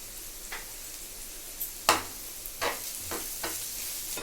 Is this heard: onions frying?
yes